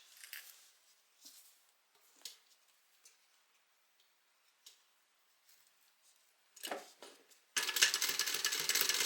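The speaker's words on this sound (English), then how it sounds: "I'm going to go ahead and just cut this pocket apart." Scissors snipping apart the seams of a sewn fabric pocket, a few quiet, close, isolated cuts spaced out over several seconds, followed by a louder burst of rustling fabric at the end.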